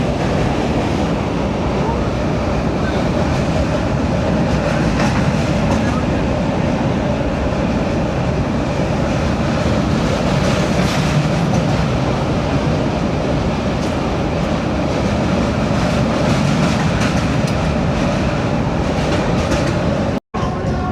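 A passenger train on the Secunderabad to Rajahmundry route rumbles along the rails, heard from inside the coach. The dense roar and rattle are steady and loud throughout, with faint rhythmic clatter.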